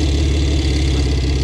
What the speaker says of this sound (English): I can't believe I'm riding a bike that Richard Hammond has ridden